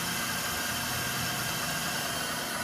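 A drill press motor driven by a VFD at 60 Hz hums steadily with an even, droning whine and faint mechanical rattle, constant and close with no pauses.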